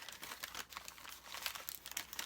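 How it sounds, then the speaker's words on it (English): Plant fiber for drop-spindle spinning rustles and crinkles in a bag, close and continuous, with uneven bursts of crumpling that come and go. "Sorry for the rustling here."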